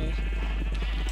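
Sheep bleating in the Minecraft survival game, a run of short wavering bleats heard close and clear, with no talk over them.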